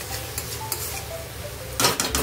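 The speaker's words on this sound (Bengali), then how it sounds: "এখন চিকেনটা এভাবেই কষাবো।" Chicken for butter chicken is stirred and sautéed in a pan, with scattered light scraping and clinks of a utensil against the pan and a louder burst of sizzling stirring near the end.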